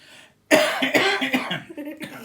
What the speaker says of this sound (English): I'm going to have to do a little cough.